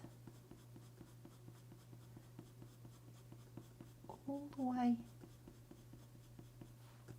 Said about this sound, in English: When I'm in the middle of the space like this, I can just use those backwards and forwards colouring